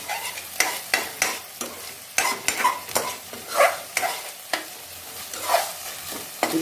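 Small fish pieces are stirred in a sizzling pan, with repeated scraping strokes of a utensil against the metal over a continuous frying hiss.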